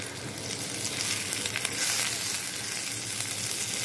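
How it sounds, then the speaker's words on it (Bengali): Onion, garlic, cumin and dried chili fry for a beef and potato curry, giving a steady, dense sizzle that holds loud and close throughout with no talking. "ভেজে নিচ্ছি"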